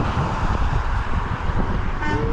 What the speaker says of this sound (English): I'm gonna see if I can get them to honk.